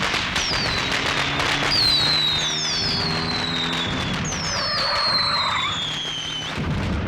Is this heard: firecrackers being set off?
yes